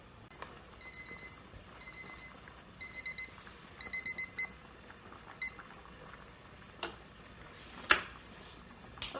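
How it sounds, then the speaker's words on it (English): A kitchen timer in a home kitchen where vegetables are being blanched sounds off in short, repeated high electronic beeps that come in clustered bursts, faint against a quiet background. "it's time to set the timer for 5 minutes."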